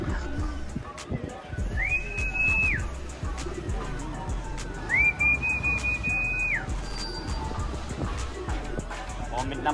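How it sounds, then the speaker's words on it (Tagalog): A person whistles to call homing pigeons arriving from San Jose, Nueva Ecija: two long, steady, high-pitched whistles, the second longer, over outdoor background noise and voices. "Kahit anong pito ko,"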